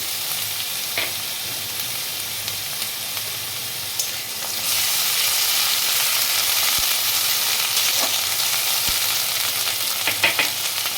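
Ginger paste dropped into hot oil for a katla fish mustard kalia, setting off a loud, close, continuous sizzle that swells sharply partway through and keeps crackling steadily.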